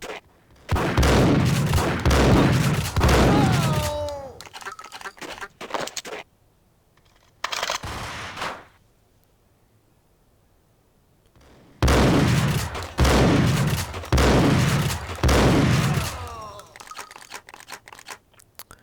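Gunfire in the video game Max Payne comes in dense bursts of rapid shots, separated by near-silent pauses. Loud and close, with a voice speaking over parts of it.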